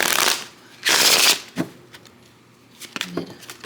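Tarot cards are shuffled by hand up close, in two quick papery riffling bursts followed by softer handling and light taps.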